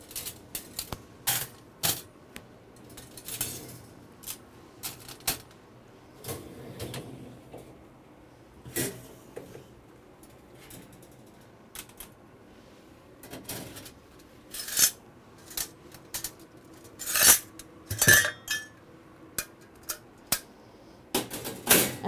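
Cassettes are pulled from a Hydrim instrument washer after its cycle, giving a series of sharp plastic and metal clacks and rattles, irregular and close, with quiet gaps between bursts.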